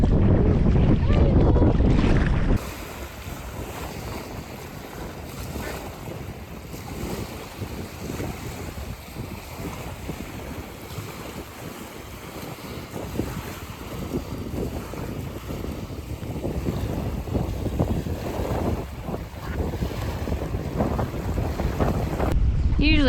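Steady wind rush and water noise on a boat bobbing at sea in Scotland, with low broadband churning throughout and a louder gust at the start.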